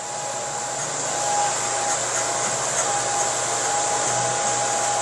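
An electric hair clipper buzzes with a steady, close, even hum through a short men's haircut in a Korean barber's shop, with no voices over it.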